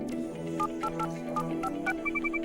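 Touch-tone telephone dialing for a long-distance call, a short sequence of distinct beeping key tones over a sustained musical backdrop, ending with a rapid run of five evenly spaced tones.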